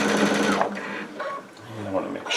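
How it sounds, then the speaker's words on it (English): A Baby Lock Altair sewing machine stitches over the join in a quilt binding. Its whirring runs in short bursts beneath a person talking close by. "Now we're just going to stitch over that join."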